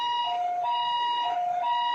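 An ambulance siren sounds as it responds to a car crash into a roadside utility pole, cycling steadily between two alternating wailing tones, loud and continuous with no talking.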